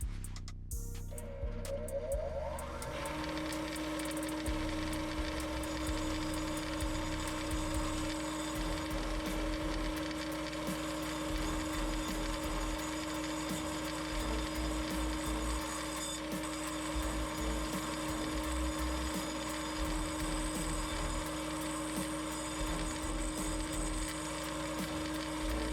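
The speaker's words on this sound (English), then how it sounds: "I'm going to grind a little bit off in this region to bring it down to my length" Grinder cutting down a bolt from a Kawasaki KX250F, a steady high whine with harsh scraping texture that starts after a brief spin-up and holds for the full stretch, no talk.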